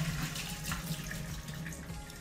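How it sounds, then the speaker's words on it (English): Soaking water pours out of a container of sprouted chickpeas into a sink, a steady close splashing trickle lasting a couple of seconds without pause. "I'm gonna drain the water"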